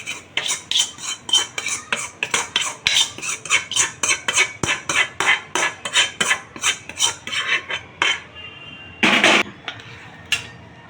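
A spoon scrapes and stirs spiced masala filling into mashed potatoes for aloo paratha in a metal bowl, with steady rhythmic strokes about twice a second, close and clear, then a louder clattering knock near the end.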